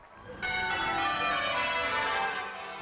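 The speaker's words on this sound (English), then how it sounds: "a special peal of Westminster Abbey's bells" Westminster Abbey's bells ring out in a special celebratory peal, a dense wash of overlapping church bell tones that starts abruptly after a brief quiet moment and stays loud and sustained throughout.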